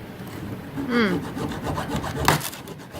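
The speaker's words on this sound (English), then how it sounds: "hacksaw, cutting through all the nails" Steady rasping strokes of a hacksaw cutting through nails in a wooden plank, with a sharp metallic squeal partway as the blade catches, close and continuous.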